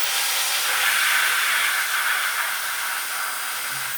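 An F3 high-speed blower running at around 150,000 RPM, blasting dust out of a sander with a loud, steady, close-up rushing hiss of air that barely varies for the whole stretch.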